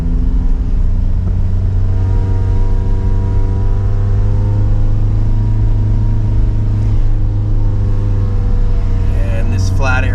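A 1.2 liter car climbs a hill in low gear on a road trip from Koh Lanta to Phuket, its engine droning loud and close with a steady harmonic hum that slowly shifts in pitch, a brief higher noise near the end.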